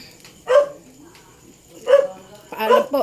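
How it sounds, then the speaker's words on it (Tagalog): A dog barks three times in separate bursts, fairly close, with a quiet pause between the first bark and the last two. "tahol lang tahol yung aso namin."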